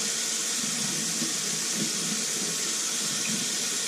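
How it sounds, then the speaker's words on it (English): Tap water runs steadily from a faucet into a cupped hand to mix a powder paste, a loud, constant broadband rush with no pause. "We're going to add some water to that."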